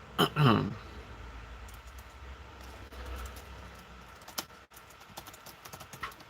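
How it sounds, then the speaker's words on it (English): Keys clack on a computer keyboard in scattered bursts, close and fairly quiet, after a louder knock or bump at the start; no talk over the typing. "So I will type it out as well for Daniel N"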